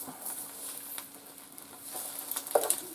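Egg frying in a ring inside a skillet, a faint steady sizzle with soft crackles and a few sharper pops near the end, no talking.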